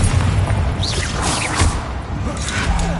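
A Confringo fire spell bursts in Hogwarts Legacy, a dense booming blast with whooshing swirls sustained over a few seconds, loud and close amid game combat noise.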